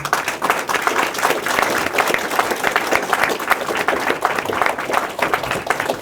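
An outdoor audience at a Newark city announcement on homeless services breaks into dense, steady clapping that holds at a fairly loud level throughout.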